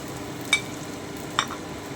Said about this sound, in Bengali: আমি একটু নেড়ে নিচ্ছি খুব ভালো করে।